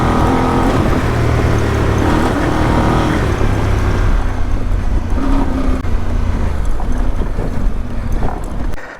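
Voge DS800X Rally motorcycle engine on a test ride, a loud steady drone with wind rush, the pitch shifting slightly as the bike holds speed throughout.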